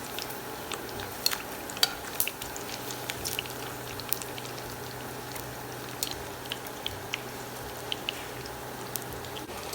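Pork belly frying in hot oil, skin side dipped down, giving a steady soft sizzle with scattered sharp pops and crackles throughout.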